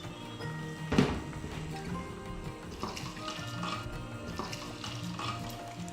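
Water runs into a cooking pot for rice with coconut milk: a steady, moderately loud pouring stream with a clunk near the start, continuing for several seconds.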